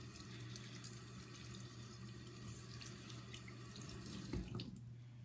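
A tap runs water steadily onto a tennis ball, a constant close splashing rush that barely changes, with a brief louder splash near the end.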